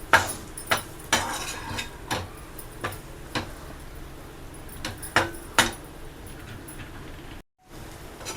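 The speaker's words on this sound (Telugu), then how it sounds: "ఇంకా మూత ఏం పెట్టకుండా ఒక 2-3 నిమిషాలు ఇలాగే రోస్ట్ చేసేసుకోవాలి." Mutton liver dusted with coriander powder roasting uncovered in a pan, stirred with a metal utensil: scattered sharp clinks and scrapes against the pan over a steady low background, close by with no voices.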